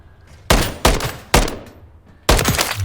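A Remington ACR rifle in MWIII fires at a target 25 meters away: four sharp, loud single shots, the first three in quick succession and the last after a short pause, each with a brief ringing tail.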